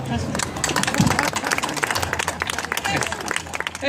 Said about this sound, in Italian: Ora l'applauso lo voglio.